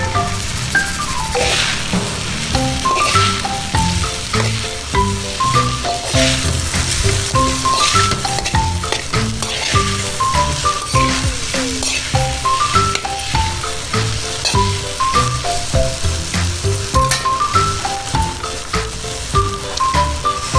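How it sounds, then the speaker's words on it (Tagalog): Pork noodles stir-fried in a pan sizzle and hiss steadily for the whole stretch, partly covered by a continuous melodic music track playing at a similar level. "So, stir fry natin siya."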